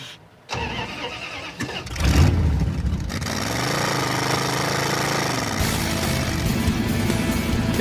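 A car engine cranks and catches, then settles into a steady, rough running idle as it warms up, loud and close with a brief surge early on.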